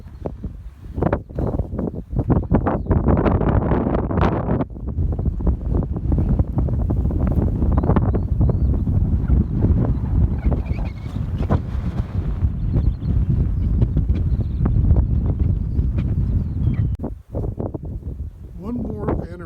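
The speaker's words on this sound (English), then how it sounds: "you're probably going to hear a lot of wind noise because the wind is coming from behind me" Strong wind buffeting a microphone from behind on an exposed mountain cairn along the Kaweka J circuit, a loud continuous low rumble with gusty surges that nearly drowns a voice talking over it.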